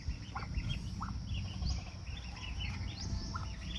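Baby turkeys and ducks feeding in a backyard farm, giving quiet scattered high peeps and chirps over soft pecking and rustling.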